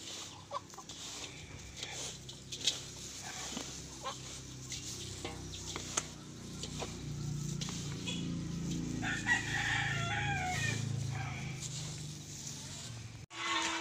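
Native chickens cluck and a rooster crows on a farm at feeding time, loud and close, with scattered squawks and several calls overlapping.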